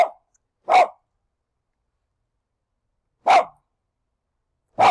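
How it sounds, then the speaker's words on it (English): An 18-pound small dog barks in sharp, isolated bursts: one at the start, another shortly after, then a long silence before two more single barks, close and loud in an otherwise quiet room. "Have to excuse us that I have my protector here, my dog Pierre, who's 18 pounds of something."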